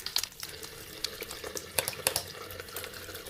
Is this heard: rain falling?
no